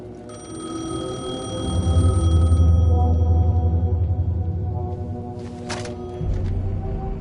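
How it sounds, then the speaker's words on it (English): A payphone rings in the video game Alan Wake 2, a repeating electronic bell tone over a low droning ambience, with a short sharp burst of noise near the end. "The payphone was ringing."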